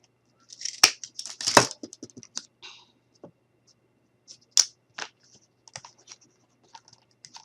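A craft stick being cut while making a helicopter from craft sticks, giving a few sharp close snips and crunches, with the loudest cuts near the start and one midway, followed by faint scattered clicks and handling noises.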